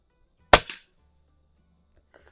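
A Pinty Pup gel blaster fires one sharp, loud shot at a spinner target, with a quick secondary smack as the gel hits, followed by near silence and faint handling sounds at the end.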